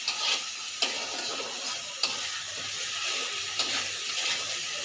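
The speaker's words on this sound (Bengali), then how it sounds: "এইবার মশলাটা ভালো করে কড়াইতে নেড়ে ছেড়ে" Spice paste is stirred and fried in a wok, giving a steady close sizzle punctuated by four or five distinct scraping strokes of a spoon across the metal, with no voices.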